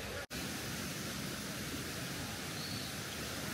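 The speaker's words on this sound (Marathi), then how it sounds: "साईडने मस्त धबधबा आहे छोटासा" Small waterfall beside a jungle trail near Bhimashankar, a steady broadband rush of falling water that fills the whole clip at an even level, with one brief dropout near the start and no voices.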